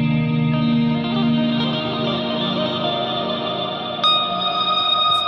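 Electric guitar played through effects, a clean tone layered with distortion, chorus and echo, giving a sustained, shimmering chord that rings out steadily with a brief attack near the end, loud and alone.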